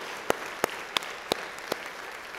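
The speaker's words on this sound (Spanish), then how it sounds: "Dale esa ofrenda de palmas al Señor." A church congregation at a Spanish-language sermon gives an offering of applause as five sharp, evenly spaced claps ring out over a quiet room.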